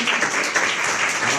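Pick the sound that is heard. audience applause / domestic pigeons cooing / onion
audience applause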